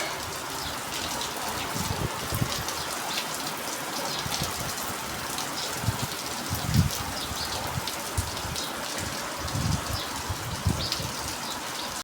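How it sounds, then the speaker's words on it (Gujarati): Steady rain falls on an open farm field in heavy monsoon weather, with gusting wind adding a broad rushing hiss and scattered louder drops throughout, occasional bird sounds in the background, no talking. "પાછો વરસાદ વધી ગયો છે થોડોક, ને પવન વધી ગયો"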